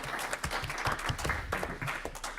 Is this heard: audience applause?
yes